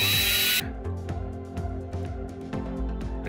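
A drill boring pilot holes through a board for a custom game master screen: a steady motor whine running throughout with repeated bite-and-release cycles, close and alone after a brief hiss at the start.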